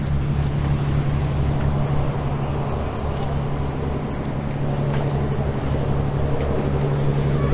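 Boats being hauled in and out on a river, a continuous low engine drone with wind and water noise, steady and moderately distant.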